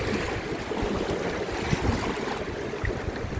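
A boat rocks on shallow river water heading toward Pagsanjan Falls in the Philippines, with steady rushing water, sloshing against the hull and a low wind-like rumble throughout, no voices.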